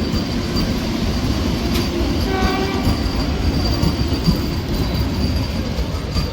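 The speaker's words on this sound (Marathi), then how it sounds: "साबरमतीपर्यंत जाते ही ट्रेन." A superfast train bound for Sabarmati on an electrified line rumbles past loud and close, its wheels roaring steadily while a horn sounds briefly partway through, with no voices.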